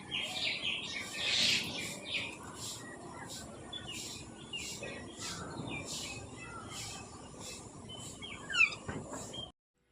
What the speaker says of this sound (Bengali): আর আমাদের এখানে সকালের পরিবেশটা ঠিক কেমন আর পাখির কেরম কিচিরমিচির আওয়াজ পুরোটাই